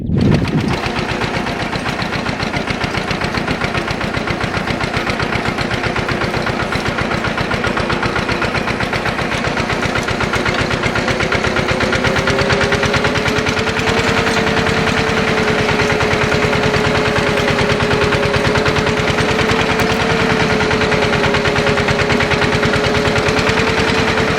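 A tractor pulls a tine harrow (weeder harrow) across a field, its engine droning steadily and loudly throughout with a faint rising whine, no talking.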